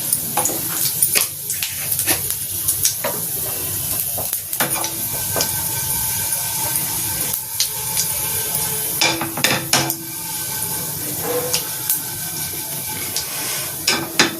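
Tempering spices with a pinch of asafoetida frying in oil for a cucumber chutney, a steady close sizzle broken by repeated scraping and clinks of a spoon stirring in the pan.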